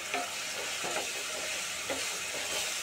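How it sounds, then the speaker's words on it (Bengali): Chili powder and spice paste sizzle as they are stirred in hot oil for a Bengali potato and pointed gourd chorchori, a steady close frying hiss broken by short scraping bursts from the stirring. "ভালো করে লঙ্কা গুঁড়োটা কষিয়ে নিয়ে তেল আর মশলা আলাদা আলাদা হয়ে গেলে"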